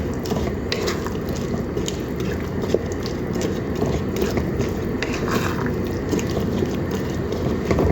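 Potatoes and ridge gourd stirred in a pan, a dense continuous scraping and sizzling clatter with small irregular clicks of the spoon against the metal, close and steady.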